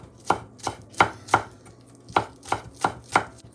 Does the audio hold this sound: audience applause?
no